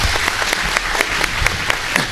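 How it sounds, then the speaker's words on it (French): Audience applause for a performer named Juliette at a French live show, steady dense clapping with sharper individual claps standing out, continuous through the short span. "Vous pouvez l'applaudir."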